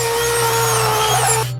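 High, steady whine of a drill boring into a head in a Black Mirror sci-fi scene, a continuous mechanical tone that holds loud and even for over a second before cutting off abruptly.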